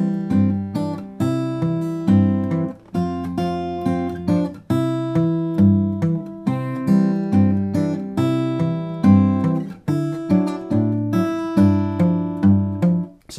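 Guitar played in Travis-picking style, a steady alternating bass on the beat under a straight melody line, with continuous close, clear plucked notes and no talking.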